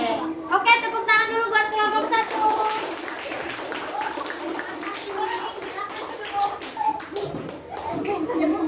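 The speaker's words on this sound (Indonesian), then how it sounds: "tepuk tangan dulu buat kelompok 1" A classroom of children claps for a group, a steady patter of many hands that runs on throughout, with a teacher and kids talking over it.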